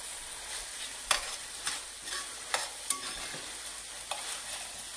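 Saltfish mixed with a splash of apple cider vinegar is stirred in a bowl, a quiet soft background broken by a handful of scattered scrapes and clinks from the utensil, with no talking.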